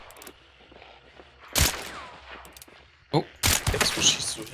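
Gunfire from the video game Hunt: Showdown comes in two loud bursts of shots separated by quieter stretches, with faint background game ambience in between.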